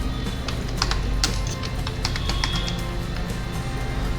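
Steady typing on a computer keyboard during a Photoshop design session, a quick run of close, crisp key clicks over a constant low background hum, with no voices.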